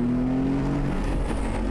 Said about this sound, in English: when you press the exhaust sound button, the Porsche sound system, it really takes off